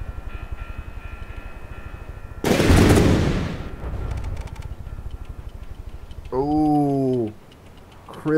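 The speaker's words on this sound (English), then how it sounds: "Absolutely unloading the guns." Steady rapid ticking of automatic guns and cannons in the naval combat game From the Depths, broken by a loud roaring blast and a tonal whine, with voices over the top.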